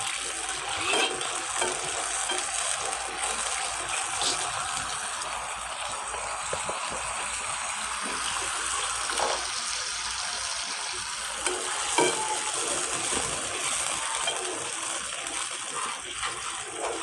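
Steady, crackling sizzle of a tempering for dhokla, spices frying in hot oil with sugar added, continuous throughout with occasional louder pops and stirring scrapes.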